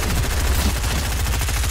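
Rapid automatic gunfire in the battle royale game Fortnite, a dense, loud, continuous burst of shots with a fast rhythmic rattle.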